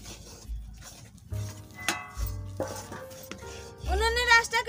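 A spoon stirs a bread and flour mixture in a pan over low heat for a bread sandesh, making soft intermittent scraping and light clinks against the metal over a low hum. A voice comes in briefly near the end.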